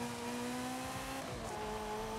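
A Ferrari F40 in Forza Horizon 5 at high speed in fourth gear, a sustained loud engine drone with steady tonal harmonics and a slight pitch shift midway, no voices.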